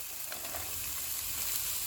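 Cabbage with red chili powder, dry coriander and cumin frying in a pan, a faint, steady hiss of sizzling throughout with no talk.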